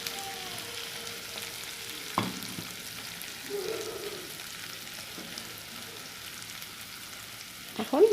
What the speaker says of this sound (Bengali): দেখুন আলুকে একবার ভাজা ভাজা করে ফেলছি।